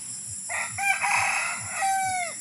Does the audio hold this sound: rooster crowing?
yes